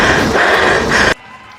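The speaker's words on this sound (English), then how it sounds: "Home crowd today loving what they're seeing late in this 5th set from Lynchburg." A home crowd at a Lynchburg college volleyball match erupts in loud, dense applause and cheering late in a fifth set. The noise is close and sustained, then cuts off abruptly after about a second.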